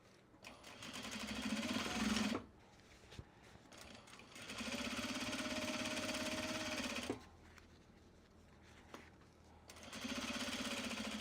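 Close by, a sewing machine stitches a bag near a D-ring in three runs of steady, fast whirring separated by short pauses, with light handling noises in the gaps.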